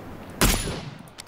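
A single sharp gunshot cracks out in a PUBG duos match, followed by a fading echo tail and faint background game ambience.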